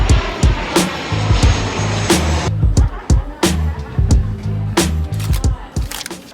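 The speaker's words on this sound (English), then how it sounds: "Back at the airport." Airport ambience with a steady low aircraft-engine rumble, broken by repeated sharp clattering knocks and thumps close by, and faint voices in the background.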